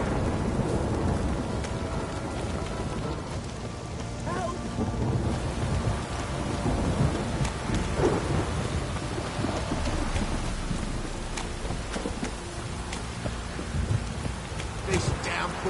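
Heavy downpour in a PlayStation 4 game, a steady dense rain hiss with low rumbling thunder rolling underneath throughout, with a few scattered sharp crackles.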